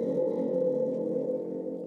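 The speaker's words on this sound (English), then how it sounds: "And the modern version of this is called the Thunder Tube." A thunder tube spring drum with a drum-head spring, played dry without effects, gives a steady low rumbling drone that sustains evenly throughout, moderately quiet and alone.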